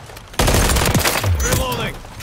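Rapid bursts of video game gunfire crackle loud and close, starting abruptly and rattling on in an automatic fusillade, with a voice calling out over the shooting.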